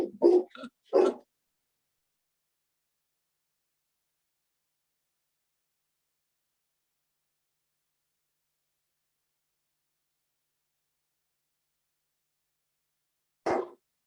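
A dog barks at someone arriving at the door: a quick cluster of sharp, close barks, then a long silence before one more bark near the end.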